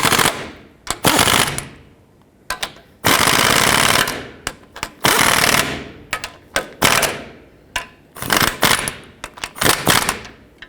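A power tool snugging up ball joint bolts on a 2001-07 Toyota Sequoia, loud rattling impact bursts repeated in short and long runs separated by brief pauses.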